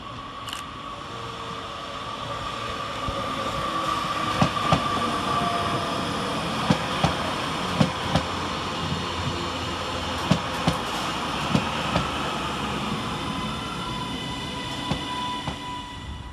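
A Northern class 331 electric multiple unit arrives at Cheadle Hulme station, a steady rolling rumble with a faint whine and rhythmic clicks of wheels over rail joints, heard from the platform with no talk.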